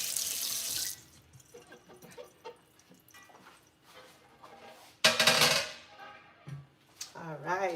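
Running tap water rinses a cutting board at a kitchen sink, a hissing splash at the start and again in a loud burst midway, with quieter handling sounds and brief talk between.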